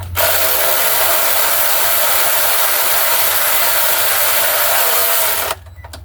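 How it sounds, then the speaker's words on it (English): A Craftsman power tool runs steadily and loudly, driving 10 mm bolts on the engine mount of a 2009 Dodge Journey 3.5L AWD, a continuous whirring drone that cuts off abruptly near the end. "these are the little places where your power tool comes in handy"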